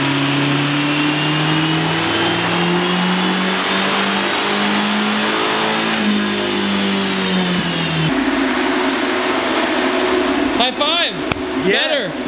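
A stock Lexus SC300 with an automatic transmission revs hard through a full-throttle pull, its engine note climbing steadily and loud, dropping at a shift near the end, with voices talking over the tail.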